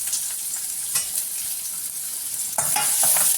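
Onions and curry leaves sizzling and crackling in hot oil, a steady bright fry with occasional stirring scrapes and a louder flare near the end.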